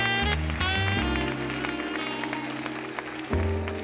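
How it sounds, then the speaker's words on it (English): Audience applause for contestants at the 2016 Ms. Senior DC pageant, mixed with loud stage music that plays over and through the clapping. "Contestants, a round of applause, ladies and gentlemen."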